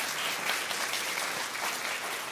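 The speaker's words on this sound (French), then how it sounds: "J'ai entendu des applaudissements, c'était timide." Steady audience applause fills a church service during a sermon, a dense even wash of clapping from a congregation that holds constant for a couple of seconds with no talk over it.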